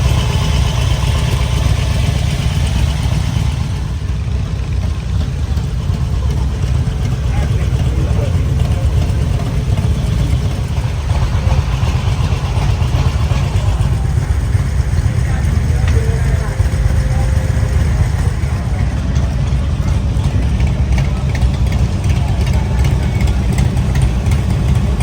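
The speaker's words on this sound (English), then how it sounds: "It's been running about 20 minutes now, which is enough time that most Harleys would overheat." A Harley-Davidson motorcycle engine idles steadily for the full stretch after a long warm run, a continuous low rumble close by with a faint background murmur of voices.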